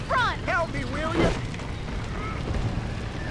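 A horse whinnies in short, shrill bursts near a burning barn in the Red Dead Redemption video game. The calls come early, then give way to a low roaring rumble with people talking over it.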